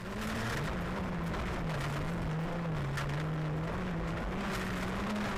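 A Hyundai i20 rally car runs on gravel with tarmac tyres and suspension, its engine giving a steady sustained drone at a fairly even pitch, heard from some distance with no talk.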